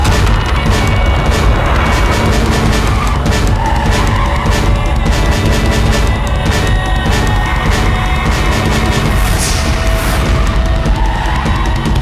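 A car skids loudly during a chase scene in a Bollywood film, tires squealing in repeated screeching bursts over a constant engine roar, with sharp impacts and crashes punctuating the action.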